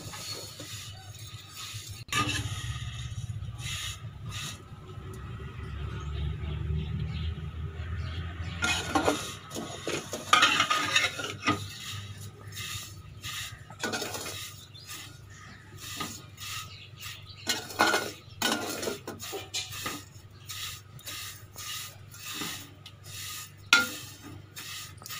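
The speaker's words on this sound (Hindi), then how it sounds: "सवैयों को घी के अंदर ऐसे फ्राई कर लेना हल्का।" Vermicelli frying in ghee in a pan, with a low sizzle early on, then scraping stirs and clinks of a utensil against the pan, close and moderately loud without talk.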